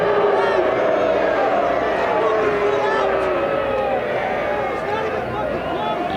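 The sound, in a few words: soccer crowd reacting unhappily to a referee's call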